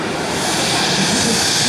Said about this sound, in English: Here goes the F-100.